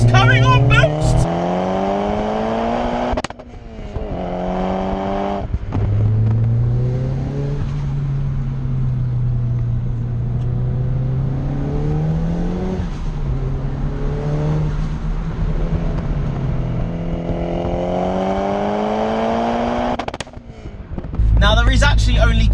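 Turbocharged 400 bhp Nissan Pulsar GTI-R, a 1200 kg car, revving hard with a loud, sustained engine note that rises and falls through long pulls, briefly dropping between revs, close to the microphone.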